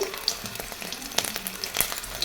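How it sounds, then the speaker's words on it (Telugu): Garlic pieces fry in a pan, a soft crackling sizzle with scattered small pops and spits over a low background hiss. "ఆ ప్యాన్లో తెల్లగడ్డ ముక్కలు వేసి కొద్దిసేపు వేగనివ్వాలి."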